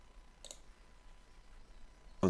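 A computer mouse gives two short, crisp clicks, one early and one at the very end, against a faint, quiet room background.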